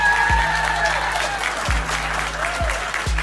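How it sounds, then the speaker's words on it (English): An evening basketball event crowd claps steadily in a sustained wash of applause, with a few deep thumps and a voice faintly audible beneath. "Can you guys give yourself a round of applause?"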